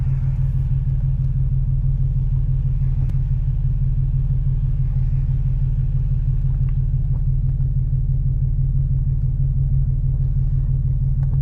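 Steady low car engine rumble and road noise from inside a vehicle being driven through Atlanta, continuous and fairly loud throughout with no talking.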